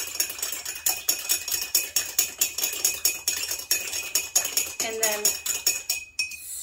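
A spoon clinks rhythmically against ice in a glass as a tequila cocktail is stirred, steady rapid tinkling close up, with a brief spoken phrase near the end.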